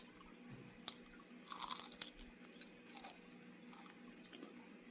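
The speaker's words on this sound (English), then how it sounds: "I hope you can hear the crunch. It's really crunchy." Crunchy fried oyster mushroom is chewed close to the mic, irregular crisp crunches and bites clustered over a few seconds, fairly faint against a quiet room.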